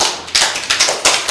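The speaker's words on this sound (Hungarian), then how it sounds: "tapsoljuk meg őt is" Children and adults applauding a child's costume at a kindergarten carnival, a short burst of close, uneven hand claps in loose rhythm.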